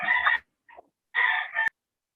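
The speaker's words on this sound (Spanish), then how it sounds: "Gallo." A rooster crows twice, close and loud, each call a long harmonic cry, with a short faint squawk between them and a sharp click at the end of the second.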